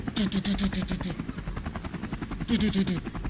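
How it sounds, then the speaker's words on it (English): A helicopter sound effect plays, a rhythmic chopping rotor pulse with bursts at the start and end, loud under voices talking in a morning studio show. "There's the helicopter sound effects"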